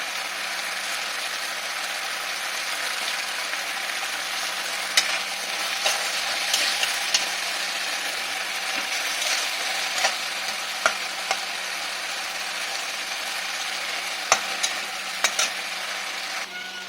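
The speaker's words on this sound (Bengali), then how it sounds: "এখানে আমার মশলাটা ভাজা হয়ে গেছে" Spice paste fries with a continuous close hiss in a pan while a utensil scrapes and stirs, giving scattered sharp clicks and knocks over the steady sizzle.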